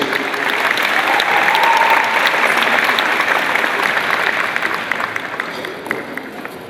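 Sustained audience applause at an awards ceremony in a concert hall, a dense, even wash of many hands clapping that stays loud throughout and eases slightly toward the end.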